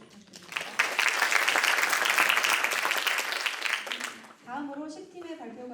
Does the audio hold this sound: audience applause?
yes